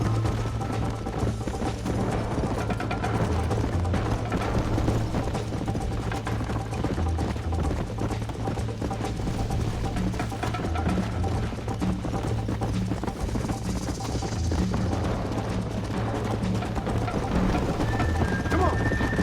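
A horse's hooves clip-clop steadily in Red Dead Redemption, a continuous rhythmic trot under the game's background sound and occasional talk.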